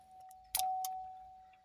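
A 2013 Chevrolet Volt powering back on, heard as a soft click followed by a steady, clear electronic chime tone that holds to the end, quiet cabin with no talk.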